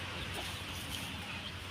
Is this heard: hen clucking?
yes